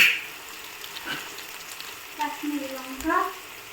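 Duck meat curry being stirred in a pan, a soft steady sizzle with occasional scraping strokes building toward the end, close and fairly quiet.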